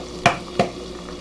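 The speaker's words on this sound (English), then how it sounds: "I carefully crack my egg" An egg cracks into a hot frying pan. Two sharp taps sit close together over a faint, steady sizzle in the background.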